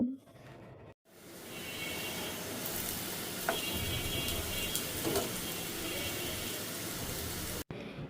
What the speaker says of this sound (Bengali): এই যে অলরেডি কচুটা ভাজা হয়ে এসেছে